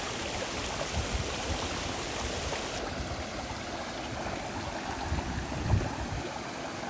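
Steady, full-bodied rush of a garden waterfall in the rock garden at Newstead Abbey, a constant broadband roar of falling water heard from nearby, with no voices.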